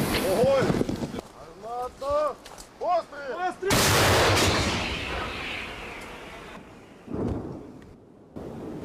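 Voices speak briefly, then a D-30 howitzer fires with one loud, booming blast whose rumble rolls out and fades slowly.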